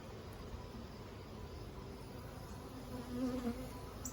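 Honey bees fill a single brood chamber hive during a June inspection, making a steady, dense, moderately faint buzzing drone that swells slightly near the end, with no talking.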